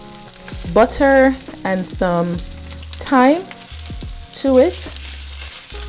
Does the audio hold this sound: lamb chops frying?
yes